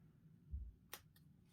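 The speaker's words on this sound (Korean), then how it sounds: "가위집을 살짝" Scissors make a quick, sharp snip into the doubled waistband of a pair of jeans, a single crisp cut close up in a quiet room.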